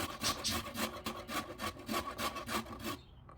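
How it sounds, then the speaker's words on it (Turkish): Three peeled medium carrots are grated on the fine side of a grater, producing rapid, rhythmic rasping strokes, close and fairly quiet, which stop abruptly near the end. "Şimdi yıkayıp kabuğunu soyduğum 3 tane orta boy havucu rendeliyorum."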